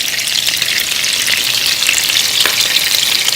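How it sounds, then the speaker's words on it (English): Turkey meatballs sizzle loudly and steadily in a hot pan, a dense, even crackle of frying that holds for the whole stretch with no voices over it. "And then you move the meatball into the pan."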